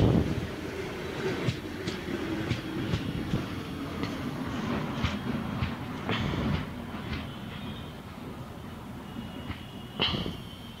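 Train in a railway junction video game rolling along the rails, steady rumble with rhythmic clickety-clack wheel beats and an occasional brief squeal, slowing toward a stop.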